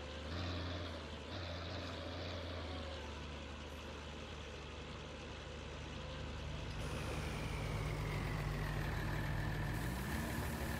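A modified tractor engine drones in Farming Simulator 19, a steady loud mechanical hum that keeps going, its pitch rising near the end, with no talk.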